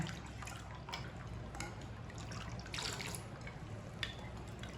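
Jaggery (gur) sharbat being whisked in a bowl or jug, giving a steady wet sloshing and trickling of liquid with small splashy accents, close and continuous, with no talking.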